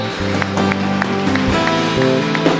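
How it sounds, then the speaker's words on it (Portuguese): A church congregation applauding, steady dense clapping with a few sharper taps standing out, heard under organ-like sustained tones from the room. "Se você ama Jesus, dê uma salva de palmas para Ele."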